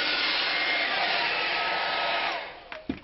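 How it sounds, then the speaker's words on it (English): A hair blow dryer roars continuously at close range while heating a Kydex sheet to reform a holster for a Rock Island 2011 1911 pistol, then shuts off and is followed by a few faint clunks and handling sounds. "saw me there running the blow dryer."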